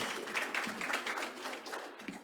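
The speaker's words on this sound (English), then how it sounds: "maybe we can do a round of applause after I call each name" Quiet round of applause at a school district board meeting as a name is called for a certificate, a soft, steady patter of scattered hands heard from across a room, continuing evenly throughout.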